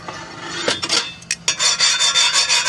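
A hand rubs across a sanded Weber Q grill plate, giving a dry scratchy rasping in several close strokes, uneven at first and then steady back-and-forth rubbing to the end.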